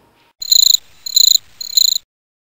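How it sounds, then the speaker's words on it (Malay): Crickets chirp as a sound effect in three clean, loud bursts of rapid pulsing trills separated by short pauses, with no talking. "Ataupun anda nak bunyi cengkerik?"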